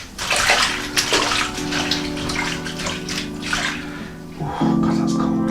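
Water splashes and sloshes in a bowl as vegetables are rinsed for vegan kimchi, a close, continuous wet swishing with a few louder surges, ending in a steadier gush of running water.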